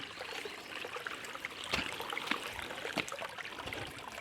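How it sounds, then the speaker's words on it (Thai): A waterfall deep in a forest gives a steady, fairly faint rushing wash, with a few brief louder splashes and no talk. "เป็น น้ำตก"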